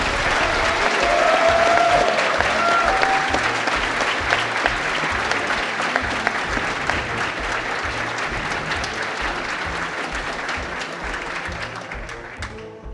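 A large audience at a Summer Games Done Quick speedrun marathon bursts into sustained applause and cheering after a Super Metroid race, starting loud and gradually thinning over about thirteen seconds, with a few whistles early on.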